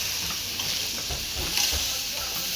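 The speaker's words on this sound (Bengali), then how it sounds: "মশলাটাকে ভালো করে পটল আর আলুটাকে একদম কষা কষা হয়ে গেছে।" Pointed gourd (potol) and potato chunks fry with spices and Kashmiri chili powder in a pan, giving a steady close sizzling hiss with faint stirring scrapes throughout.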